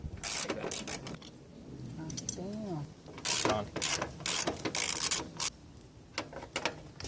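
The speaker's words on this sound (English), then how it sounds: "I'm going to go ahead and remove the radiator brackets." A hand ratchet loosens the radiator brackets on a Nissan 240SX being stripped for a drift car, giving several short bursts of fast clicking with pauses between, close and fairly clear, along with some rubbing and metallic handling.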